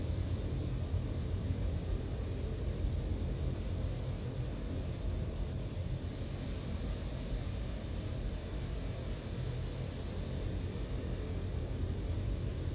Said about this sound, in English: Just gonna listen to the aircraft.